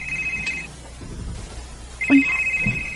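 A mobile phone rings with an incoming call: two bursts of a bright electronic ringtone, near and fairly loud, separated by a short pause with faint background noise.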